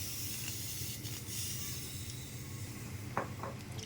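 A crab wrapped in banana leaf frying under a lid in a little oil, producing a soft, steady hiss with faint sputters and one or two small pops near the end, fairly quiet throughout.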